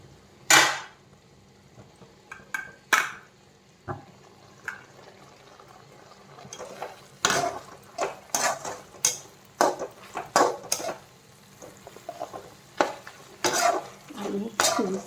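Stirring and scraping in a pan of frying potatoes with okra added, a lid lifted off, with scattered clinks and scrapes of a utensil against metal, irregular and close, plus a soft sizzle underneath.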